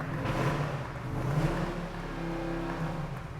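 Ram TRX pickup truck engine revving at an outdoor giveaway ceremony, a loud, deep, sustained engine roar that swells and holds close by, with no talk over it.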